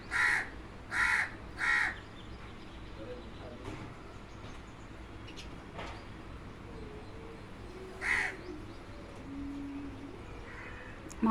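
Crows caw outdoors in three quick loud calls, then a single call a few seconds later, over a steady low background hum. No clear sparrow chirps stand out.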